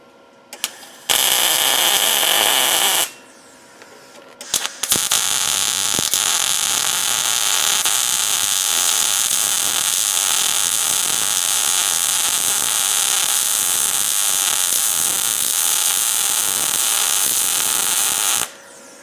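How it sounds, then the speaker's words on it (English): Steady, loud electric welding buzz on the dump bed of a lawn trailer, with a short arc burst, a pause, then one long uninterrupted crackling weld run lasting about fourteen seconds before cutting off. "Alright, well, that's all welded in."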